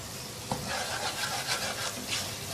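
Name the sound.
stirring the spice mixture in a pan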